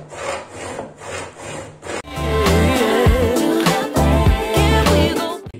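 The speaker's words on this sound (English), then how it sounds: "Big wood saw there." A big wood saw cutting through wood, starting with a few rasping strokes and then settling into continuous loud, rough back-and-forth sawing close by, with no talking.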